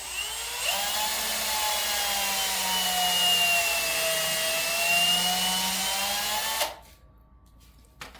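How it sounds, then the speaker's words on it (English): A power drill whines steadily while boring dowel holes into poly panels, its pitch rising then holding for about six seconds before cutting off sharply, followed by near silence. "Also good to try and keep your drill flat like that"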